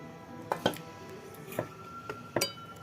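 A lid coming off a pan of steamed Gokul pitha with kheer and mung dal filling, a few sharp metallic clinks and knocks spaced apart against a quiet background.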